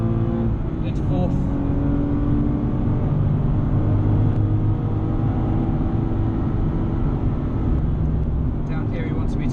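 Nissan 370Z Nismo engine pulling hard on the Spa circuit, a loud, continuous in-car roar that rises through a gear change into fourth, with a voice talking over it.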